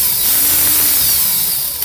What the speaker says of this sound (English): now I'm going to put my drill in reverse